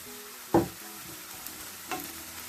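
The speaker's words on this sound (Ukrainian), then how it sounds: "І ще трошки обсмажимо вже разом з морквою." Onion and carrot frying together in a pan, with a low steady sizzle under a couple of brief stirring scrapes, one sharp and one softer; no talk.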